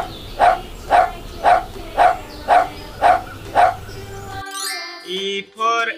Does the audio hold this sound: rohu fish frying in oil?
no